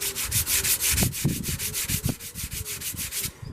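Small hand sander with clipped-in sandpaper rubbing over a terracotta garden pot, a steady rapid rasping scrape with regular back-and-forth strokes, close and fairly loud, no talking.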